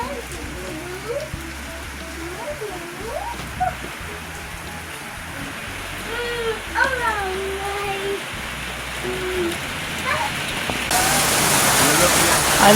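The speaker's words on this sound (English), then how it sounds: "this is the sweetest time of year when the rain a fall" Steady rain falls beside a river in Jamaica, a broad continuous hiss that grows louder toward the end, with voices talking over it throughout.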